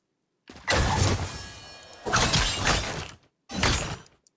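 Three bursts of crunchy, shattering video game ability effects for the character Locke, each a sharp impact with a noisy tail, separated by short silences.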